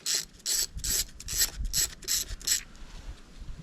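A ratchet wrench loosens the retaining bolt on the ignition coil of a Honda BF 75–100 outboard. It gives about seven quick, close, even clicking bursts, then falls quiet, with no talk.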